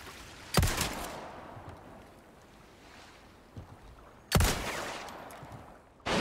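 Two loud, sharp gunshots ring out by a lake in Resident Evil 4 Remake, then a second pair follows, each sharp crack trailing into a rumbling echo.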